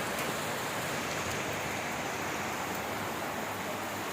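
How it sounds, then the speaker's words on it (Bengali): Heavy downpour in Dhaka, watched from a balcony, a dense, steady hiss of rain hammering down with no breaks, loud and close throughout. "মুষলধারে বৃষ্টি হচ্ছে, ক্যাটস অ্যান্ড ডগস"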